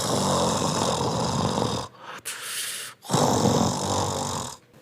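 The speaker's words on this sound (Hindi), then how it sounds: "वो तो ऐसे खर्राटे ले रहा था जैसे घोड़े बेचकर सोया हो।" A giant cartoon tree snoring loudly in deep sleep: long, heavy, rasping snores filling most of the clip, broken by a brief quiet gap and a short pause before the next loud snore.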